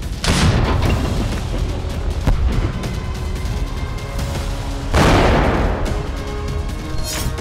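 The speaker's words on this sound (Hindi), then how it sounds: "सुमी में आर्टिलरी से फिर जबरदस्त गोलाबारी की गई है।" Artillery shelling in Sumy, Ukraine, heavy booms and dense rumbling blasts, with two sharper bursts near the start and midway, loud and continuous with no talk.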